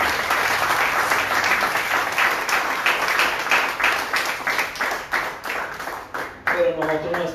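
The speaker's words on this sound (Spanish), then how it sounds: "Y hay un aplauso a Él" Church congregation applauding in praise, a thick, loud round of many hands clapping that gradually thins into more distinct individual claps, with a voice emerging near the end.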